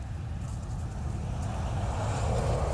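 A car rushes past on a busy highway, its broad roar swelling steadily louder over a few seconds.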